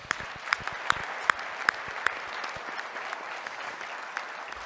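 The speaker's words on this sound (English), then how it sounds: "let's just give them a round of applause for that" An audience claps in steady applause, with a few sharp, louder claps standing out at the start before the clapping settles into an even patter.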